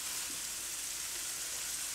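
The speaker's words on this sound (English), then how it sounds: "Now we're going to start adding some of the vegetables, okay? And put the onions in." Onions frying in a pan of grease for shepherd's pie, giving a steady, even hiss of sizzling that stays constant and unbroken throughout.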